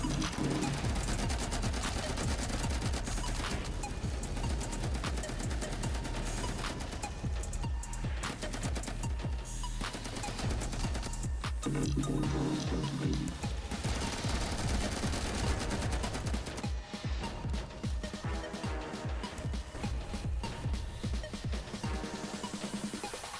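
Continuous dense automatic gunfire from the video game Will to Live Online rattles loudly and without pause, with overlapping bursts from several weapons filling the whole stretch.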